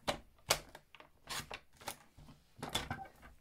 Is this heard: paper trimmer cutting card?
yes